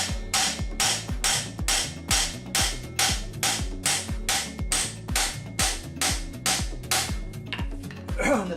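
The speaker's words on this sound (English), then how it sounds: "Use a brass hammer" Brass hammer tapping on the rear brake of a Honda Nighthawk 450 motorcycle, about eighteen sharp metallic knocks in an even, steady rhythm, close and alone.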